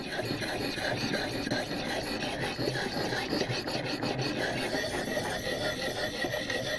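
A knife edge drawn across the abrasive of a ViperSharp knife sharpener, giving a continuous close rasping scrape with a faint squeal, steady strokes with no talking.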